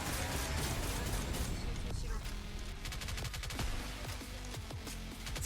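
Rapid gunfire from the video game NIKKE during a solo raid, a dense continuous stream of shots and clattering mechanical effects over heavy low rumble, with a voice talking throughout.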